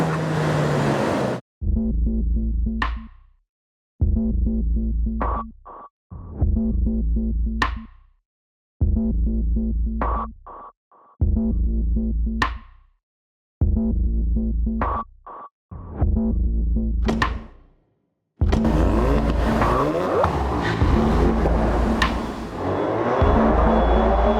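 A Ford Focus RS accelerating hard on a racetrack with mountain sections, repeated loud engine pulls rising in pitch, each cut by brief silent gaps at gear changes, ending in a sustained roaring run.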